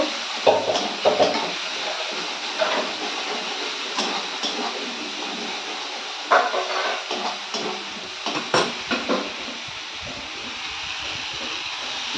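Masala paste being fried and stirred in a pan for a vegetarian phuruli jhal, a soft, steady sizzle broken by scraping spatula strokes and occasional clinks of utensil on the pan, close and moderate in volume.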